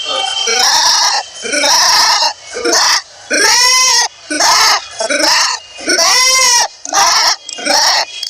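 A man imitates a goat, bleating in a series of loud, wavering, nasal cries with short gaps between them, repeated about eight times in a row.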